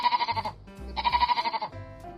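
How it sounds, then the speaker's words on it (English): A sheep on a farm bleats twice in close succession, each call a loud, wavering, nasal cry, heard alone and up close. "Sheep stay in pens on the farm where they are kept safe and warm."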